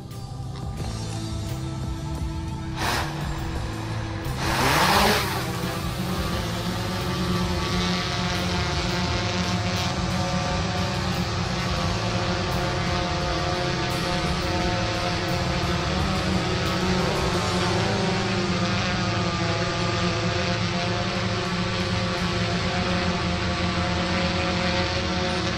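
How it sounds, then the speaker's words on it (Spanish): Camera drone spinning up and taking off, a sharp swell of propeller whine as it lifts, then a steady close, even buzzing hum as it hovers and flies, with no talking. "Entonces vamos a proceder a despegar."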